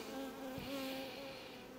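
Honeybees buzz faintly around a beekeeper, a thin steady drone with a slight wavering pitch, distant and quiet against a soft background hush.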